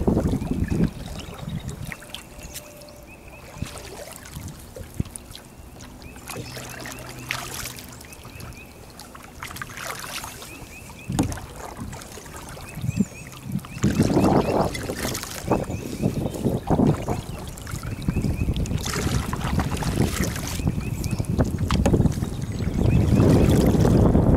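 A Jackson Big Tuna kayak moves across a lake into the wind, with soft water swishes and paddle splashes under steady gusty wind noise that grows louder in the second half.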